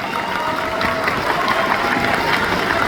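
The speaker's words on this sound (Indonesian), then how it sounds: "Boleh tepuk tangan buat semuanya di sini." Audience applause at a speech during a university anniversary event, a dense steady wash of many hands clapping at moderate volume with a faint murmur beneath, continuing evenly throughout.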